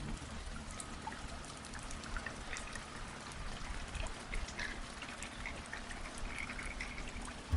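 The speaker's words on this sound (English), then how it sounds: "Raindrops." Raindrops patter densely in a heavy downpour around a motorcycle, a continuous close hiss with scattered sharper drips and splashes and no talking.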